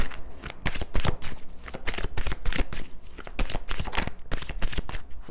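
Tarot cards being shuffled for a reading: a close, steady run of rapid riffling card flicks, loud and continuous without voices.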